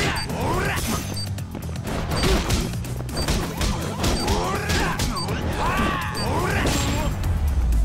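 Heavy punches land in a fight in the action game Judge Eyes, with dense smashing thuds and crashes layered over game audio while voices talk throughout.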